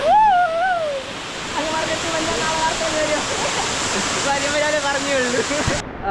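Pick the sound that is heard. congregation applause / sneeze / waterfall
waterfall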